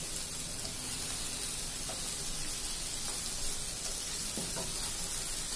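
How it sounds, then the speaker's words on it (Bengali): Tandoori chicken pieces frying in a pan on a stove, giving a dense, constant hiss and sizzle with a few faint knocks of a utensil. "এখন আস্তে একটু বাড়িয়ে মাংসটা পুরো পুরো করে ভেজে নিব"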